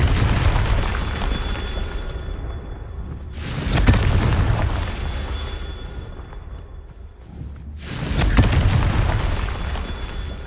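Confringo blasting spells going off in a Harry Potter video game, with two heavy booming explosions spaced several seconds apart over a loud, continuous rumbling background.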